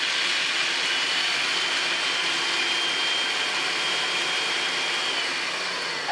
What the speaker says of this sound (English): take my 1 cup of walnuts, put it in here in my food processor